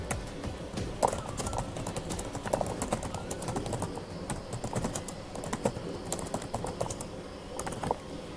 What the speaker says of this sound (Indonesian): langsung kita ketikkan di bagian pertanyaan ini